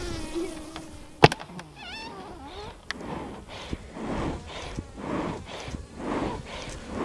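A very full, aggressive honey bee hive gives off a dense, close buzzing, with individual bees whining past in rising and falling tones and a few sharp knocks early on.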